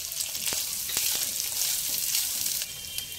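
Chopped green chilies fry with ginger garlic paste in a pan for cauliflower pulao, giving a dense bright sizzle with a few crisp ticks from stirring, loud and close.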